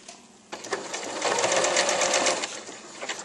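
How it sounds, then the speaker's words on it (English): Sewing machine zigzag stitching ribbon onto a bandana apron, a steady rapid mechanical whir that starts abruptly, builds and holds for a few seconds close up. "I'm going to stitch right along the top here using a zigzag stitch on my sewing machine"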